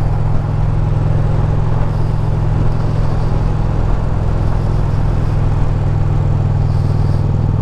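A 2020 Indian Challenger motorcycle's engine drones steadily while riding, a loud, constant low rumble with road and wind noise mixed in and no clear revving or talk.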